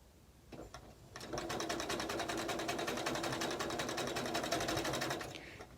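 Sewing machine chain piecing quilt blocks, a close, steady high-speed needle rattle in rapid even pulses that starts after a brief pause and runs continuously before easing off at the end.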